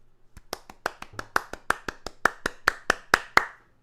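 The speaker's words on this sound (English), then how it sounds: "I figured we'd go all natural applause" Scattered live audience applause at an EP launch party, about fifteen sharp separate claps from a small crowd. The claps rise gradually in loudness and stop abruptly, with no talking over them.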